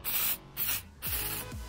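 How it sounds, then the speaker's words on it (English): Cleaner sprayed from a trigger bottle over a fishing reel and up a rod's guides, three bursts of hissing spray separated by short pauses, close and clear, with no talking. "I spray around the reel right the way around all the mechanics, and I go up and do the eyes"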